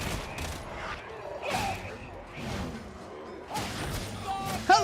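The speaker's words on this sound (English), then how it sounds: "I love the Vrax autogun so much though. The fast autogun." A Vraks autogun in Warhammer 40,000: Darktide fires in short bursts of crackling shots, several separate volleys spaced over a few seconds, with thuds and game noise between them.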